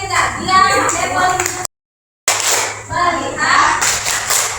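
Children clap in a classroom during a computational thinking lesson built around a Blockly game. The applause is scattered and mixed with lively speech, briefly drops to silence, then resumes under continued talking.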